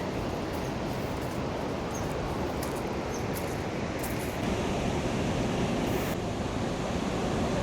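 The Madhuganga river near Madhmaheshwar, a steady, dense rush of flowing mountain water heard close and continuous, with a slight swell toward the end.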